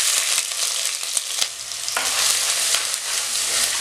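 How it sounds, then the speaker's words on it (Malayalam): Ginger dropped into hot oil with browned fenugreek seeds sizzles steadily and loudly, with a few sharp crackles and a brief surge partway through, for a Kerala-style pomfret fish curry. "അതിനകത്തേക്ക് നമ്മൾ എടുത്ത് വെച്ചിരിക്കുന്ന ഇഞ്ചി ഇട്ട് കൊടുക്കാം."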